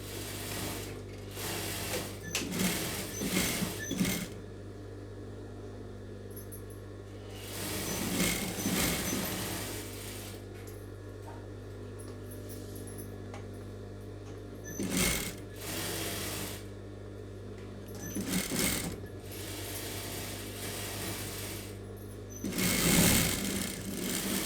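Sewing machine stitching a blouse patch slowly, whirring in several short bursts of a few seconds each, with quiet pauses between runs and a steady low hum underneath.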